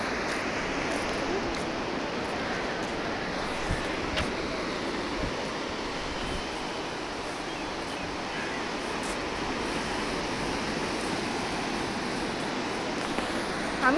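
Sea waves break on a beach in a continuous, even wash of broadband surf roar that holds steady for the whole stretch, with no clear individual crashes and no talking.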